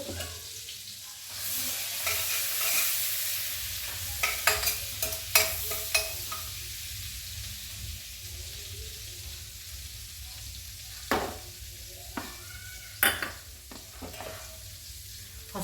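Butter sizzling in a pan as chicken snacks get started, a steady soft frying hiss with sharp clicks and scrapes from stirring scattered throughout, close by and without talking.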